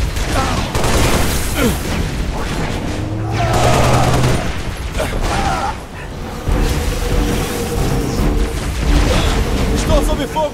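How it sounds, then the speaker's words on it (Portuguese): Rapid gunfire and explosions in Halo: Reach, mixing bursts of automatic fire, booms and mechanical clatter, loud and continuous throughout, with game voices and effects mixed in. "Estou sob fogo do inimigo."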